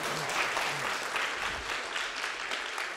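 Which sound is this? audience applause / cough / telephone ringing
audience applause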